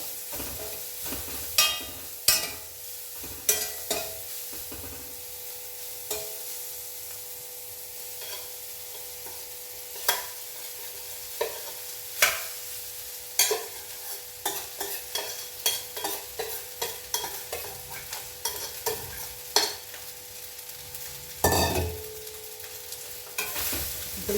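Amla rice stirs and fries in a hot pan, a spoon scraping and knocking against the metal in irregular bursts over a low continuous sizzle, close by and with no talking.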